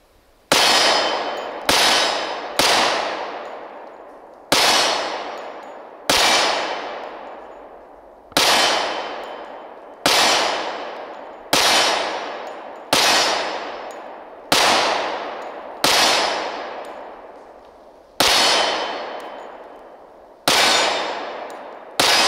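Springfield Armory XDm Elite 10mm pistol fired at a steel target, about thirteen loud, separate shots each followed by a ringing metallic clang, spaced irregularly a second or two apart with no talking.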